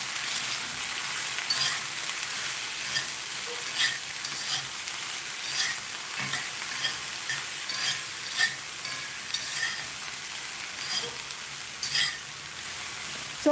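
Circle-cut slices of long okra fry in a pan, a steady bright sizzle with occasional crackles and soft scraping stirs, close and continuous with no talking.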